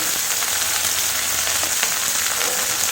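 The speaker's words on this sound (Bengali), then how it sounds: "সবজিটা ভেজে নিই। হলুদ আর নুন দিয়ে" Arum vegetable frying in hot oil with turmeric and salt, giving a loud, steady close sizzle with no pauses and no talk.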